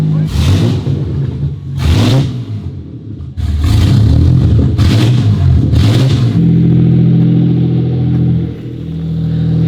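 BMW M4 engine freshly running after repair, warming up in a shop: a loud close idle broken by several sharp revs, then a steady rumble, with people talking over it.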